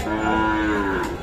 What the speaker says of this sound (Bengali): শাহিওয়াল জাতের ষাঁড় বাছুর।